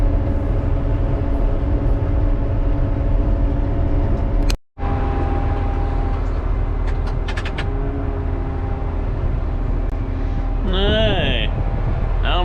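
A motor grader blading a gravel road gives a steady, loud engine drone throughout, with a brief cut near the middle and rising whining tones toward the end.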